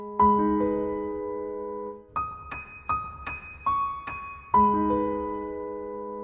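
Slow piano notes from Liszt's La Campanella, each struck and left to ring, a steady phrase of single tones and soft chords with clear gaps between them and no talking.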